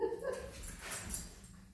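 A dog whimpers softly in a quiet room, a few brief high whines rising and falling over a low background hum, faint and close, with no one talking.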